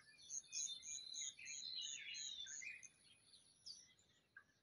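Wild birds sing on a farm alongside insects, with a quick run of bright, repeated chirps and warbling phrases over a soft constant insect hiss, faint and fairly distant, with no voices.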